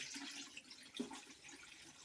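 Water splashes and trickles into the drum compartment of a Samsung front-load washing machine during a deep clean, a faint, steady pour of about four or five liters with a brief louder splash midway.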